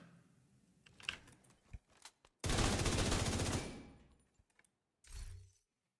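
Video game gunfire at enemies: a few scattered shots, then a loud sustained burst of rapid automatic fire lasting about a second, followed by isolated clicks and a final short blast.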